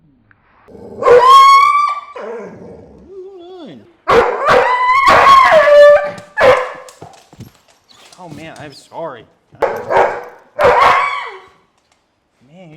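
A loud dog howls and barks in long, wavering bursts while receiving a chiropractic adjustment, close to the microphone, with a person talking softly in between.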